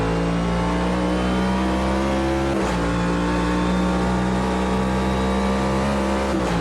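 Engine of the NASCAR Garage 56 Next Gen car in the Automobilista 2 racing game at Le Mans at night, a loud steady droning V8 roar held at high revs, with a brief dip around a gear change midway.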